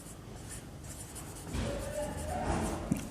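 Chalk or marker scratching on a board during a physics lecture on heat, a soft scraping stroke sequence growing louder midway, with faint room noise and no speech.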